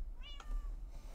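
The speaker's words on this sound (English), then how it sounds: "that's a stubborn cat" A cat in a Minecraft server game gives a single short meow, clear but quiet, over a low background hum with no talk.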